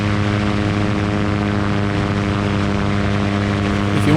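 A GT500 gyroplane with an Australian-made poly propeller cruises in flight, its engine and propeller giving a loud, steady, tonal drone with strong harmonic hum, close and continuous, and a voice faintly under the noise.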